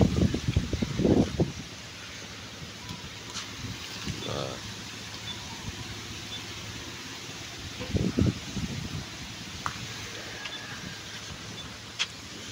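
Steady typhoon wind rushing against the microphone throughout, with bursts of talking at the start and again later over the constant outdoor noise.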